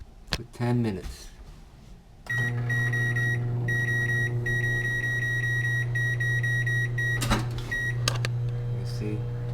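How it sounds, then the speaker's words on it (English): A microwave oven runs while an egg boils inside, a loud steady electric hum preceded by a few beeps and clicks as it starts, with brief beeps near the end and a voice speaking early on. "Now I'm gonna put it in the microwave"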